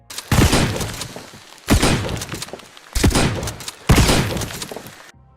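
Gunshots and explosions in the video game Project Ferocious, a dinosaur shooter, arrive as four heavy, loud bursts about a second apart, each a sharp crack-thud that decays into rumbling debris.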